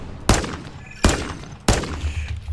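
Three loud, sharp gunshots at roughly even intervals in the video game Call of Duty, each with a short ringing decay, over faint background noise.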